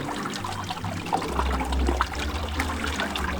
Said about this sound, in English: Just find a running stream, one without any colour.